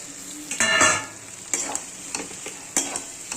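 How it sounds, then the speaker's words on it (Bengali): Potatoes sizzle in hot oil with a spice masala while a spoon stirs and scrapes the pan in a few distinct strokes, close and fairly soft, with no talking. "ভালো করে আলুর সাথে মশলাটা মাখিয়ে হালকা একটু কষে জল দিয়ে দেবো"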